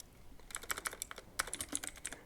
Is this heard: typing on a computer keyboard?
yes